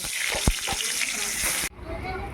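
Eggplant fries in hot oil in a pan, giving a steady close sizzle with a few sharp clicks of stirring. The sizzle cuts off abruptly and a quieter hiss follows.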